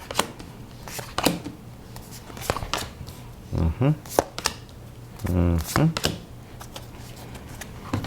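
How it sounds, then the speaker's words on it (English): Tarot cards are laid out one by one with soft flicks and slaps on a table, close by, while a person talks over them. "Let me just lay out these cards here."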